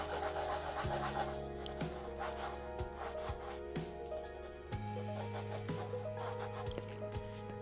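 Pencil scratching and rubbing across the paper of a new sketchbook while a character portrait is drawn, close and soft, made of quick repeated strokes over steady background music.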